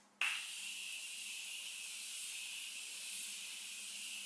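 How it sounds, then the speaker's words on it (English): A Morphe Continuous Setting Mist bottle fires one close, sharp hiss that settles into a steady, even spray lasting about four seconds, with no talking over it. "I'm going to use my Morphe Continuous Setting Mist."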